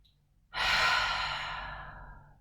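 One slow, deep breath during a beginner yoga class, drawn in through the nose and released in a long, close, airy exhale through the mouth that fades out gradually over about two seconds.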